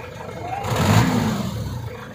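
A 1994 Mitsubishi Pajero diesel engine, fitted with an HHO kit, revs up briefly from idle, its mid-range engine roar swelling around the middle and then easing back, close and steady with no talking.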